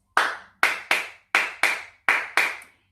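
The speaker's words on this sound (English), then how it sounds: "We're going to do some claps." Seven sharp, close hand claps (palmas) keep time for a Chacarera folk song, falling in a lilting, uneven pairs-like rhythm with clean silence between each.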